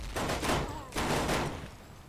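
Large fortress cannons boom in the video game Necrovision, two or three heavy blasts rolling out at moderate distance, each with a long rumbling tail.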